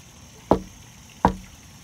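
Someone raps twice on a front door, two sharp, close knocks spaced under a second apart, with a quiet room around them.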